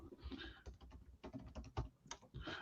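Computer keyboard typing during a live writing session, a quiet, uneven run of close key clicks in irregular bursts, with no voices.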